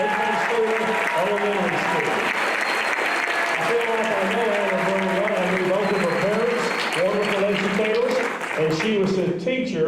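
An audience at the Golden Apple Teacher of the Year 2023 ceremony gives a sustained round of applause for a finalist, steady and full for about ten seconds, with tonal music or voices running underneath.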